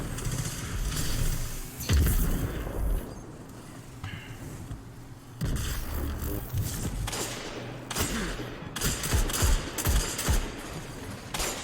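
Gunfire in the video game Destiny 2: bursts of rapid automatic shots and single heavy blasts, loud and close, mixed with mechanical clanks and thuds in an intense firefight.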